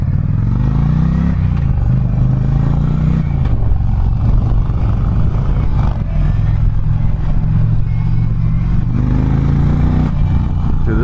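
An Indian Challenger motorcycle engine drones steadily and loud throughout a ride, with low rumbling harmonics that shift in pitch as the bike changes speed, plus wind and road clatter.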